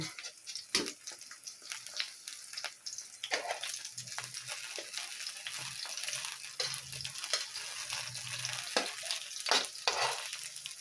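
Eggplant frying in hot oil in a pan, a steady close sizzle that runs throughout with scattered crackles and spatter pops, and no voices over it.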